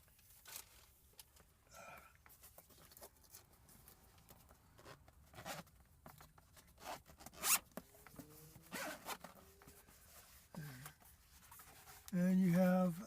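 Zippers being worked on a camera carrying case, with rustling and handling noises throughout and a louder, sustained zipping burst near the end; no talking.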